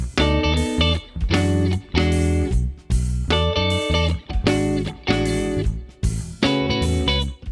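Electric guitar processed with Waves CLA reverb plug-in, strummed chords in a steady repeating pattern with a washed, sustained ambience between hits, loud and up front with no talking.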